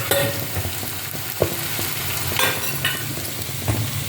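Onions sautéing in a pan with salt, chilli powder and asafoetida, a dense close sizzle with a few soft clinks of a stirring spoon, steady and fairly loud throughout, no speech.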